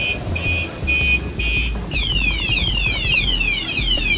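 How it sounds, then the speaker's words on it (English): A scooter's security alarm blares during a hurricane, first in steady repeated beeps and then in a rising, warbling siren, loud and close over a constant roar of wind. "I got to turn that alarm off."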